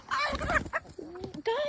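Farm chickens cluck in quick, close bursts alongside a woman's short exclamations during egg collecting, the birds' calls rising and falling over about two seconds.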